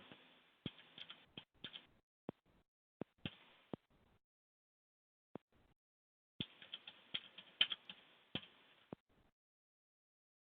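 Someone types on a computer keyboard in short bursts of crisp, close keystrokes, with clusters of rapid clicks separated by pauses and single isolated taps, quiet overall with no talking.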